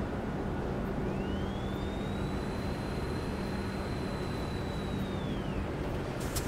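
A Renault Trucks E-Tech T electric truck accelerates in Euro Truck Simulator 2, giving a steady broadband drive noise with a thin electric whine that rises and then holds level for several seconds, constant and close.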